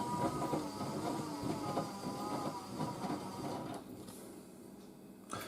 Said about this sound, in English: Satisfying to watch this distribution tumble